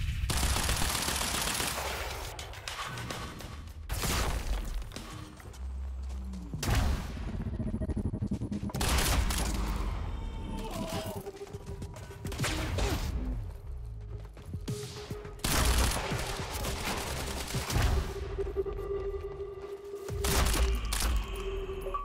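Dense gunfire from the video game Quantum Break: sustained machine-gun bursts and sharp cracking shots come in repeated loud volleys with brief gaps, over a steady rumbling background.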